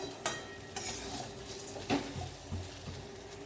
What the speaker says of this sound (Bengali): আমি এখানে রোস্টেড সিমাই ব্যবহার করেছি তাই এক থেকে দু মিনিট ভাজলেই হবে